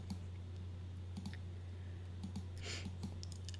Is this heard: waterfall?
no